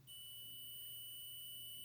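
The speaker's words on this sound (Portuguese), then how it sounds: "E ela deu bip aqui," A multimeter on continuity test gives a steady, faint electronic beep that holds unbroken for about two seconds, with no talking.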